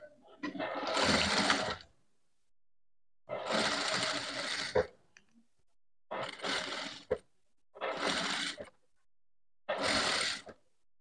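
A sewing machine stitches along a blouse edge in five separate whirring runs of a second or two each, with short pauses of silence between them, close and clear.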